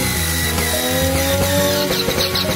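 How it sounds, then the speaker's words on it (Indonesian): A loud, steady motorized whine with shifting pitch from a power drill running continuously while assembling an IKEA whiteboard, harsh and close throughout with no pauses. "Bor lagi."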